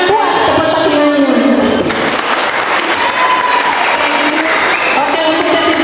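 Audience applause at a children's Bible quiz competition, a dense, steady wash of clapping that fills the whole stretch, with crowd noise and some voices mixed in.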